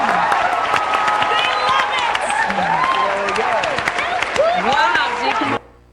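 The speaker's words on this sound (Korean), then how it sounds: "우리도 박수 한번 줍시다, 여러분" A Korean church congregation at a Wednesday prayer service applauds in a thick, sustained wash of clapping mixed with voices, cutting off abruptly near the end.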